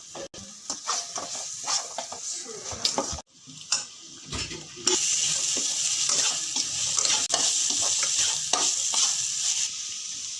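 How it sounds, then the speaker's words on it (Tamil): Chili powder masala is stirred in a frying pan for a dried anchovy kulambu, a spoon scraping and clicking against the metal over a steady sizzle that grows louder and denser halfway through. "இப்போ நல்லா மிக்ஸ் பண்ணிக்கோங்க"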